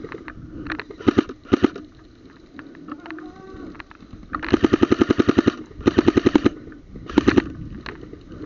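Airsoft gun firing full-auto bursts outdoors, sharp rapid cracks grouped in short volleys with brief pauses between them, loud and close, with a few scattered single shots and faint talk in the background.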